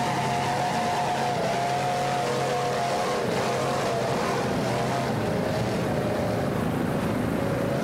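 A 36-foot cigarette racing powerboat with twin 500-horsepower Mercury engines runs in an offshore race at Daytona, a steady, loud droning engine whine that slowly shifts in pitch, heard alone with wind noise.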